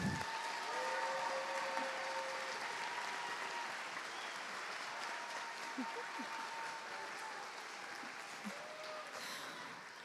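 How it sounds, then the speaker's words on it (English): An audience at a junior high school band spring concert gives sustained applause, a steady wash of many hands clapping with scattered cheers and voices mixed in, moderately distant. "They deserve one more huge applause."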